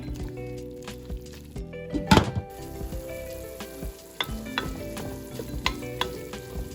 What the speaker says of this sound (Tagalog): we're gonna cook our ground pork for at least 30 minutes